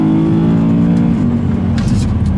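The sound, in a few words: BMW M3 E92 car driving hard on a race track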